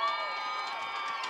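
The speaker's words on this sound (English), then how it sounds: "they got the crowd into it. The cheerleaders, the crowd, everybody" A crowd cheers and shouts at a high school football game between Park City and Union, a steady, dense roar of voices with children's shouts mixed in, heard from within the stands.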